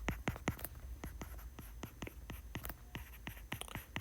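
Pen strokes on paper while working out a calculus acceleration-function problem, a steady run of short, crisp scratches and taps at close range, quiet and without talk.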